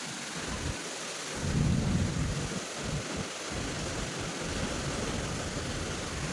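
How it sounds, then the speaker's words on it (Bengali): A Kalbaishakhi storm with heavy rain and gusting wind, a dense continuous roar with a deeper rumble swelling midway, loud and close, no voices. "একে বলে ঝড় একে বলে বৃষ্টি"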